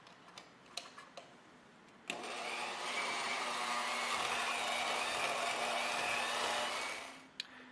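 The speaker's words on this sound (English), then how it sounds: "we're going to do that with a simple egg beater mixer" A few clicks and taps, then an electric egg beater whirs steadily at high speed for about five seconds, mixing lost-wax casting investment, before stopping.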